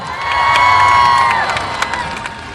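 A large crowd at a Pakistan Tehreek-e-Insaf political rally in Gujrat cheers and shouts loudly, with whistles and whoops rising over a dense roar that swells early and then slowly eases.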